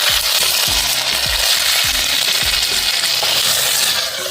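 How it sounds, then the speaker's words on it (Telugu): Country chicken pieces tipped into a pan of golden-fried potatoes and stirred, giving a loud steady sizzle of oil with repeated scraping strokes of the spoon against the pan, no voices. "ఇప్పుడు మనం చికెన్ యాడ్ చేసుకుందాం. నేను చికెన్ వేసేస్తున్నాను."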